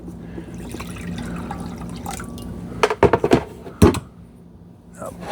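Water drips and splashes in an iRobot Roomba 515 dock as it washes its mop pads, a cluster of close liquid drops and trickles over a low steady machine hum, then quieter.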